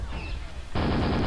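A gunshot in the video game QuakeWorld, dueling on map Dm6: a loud, sudden broadband blast cuts in partway through and sustains to the end, over faint in-game sounds.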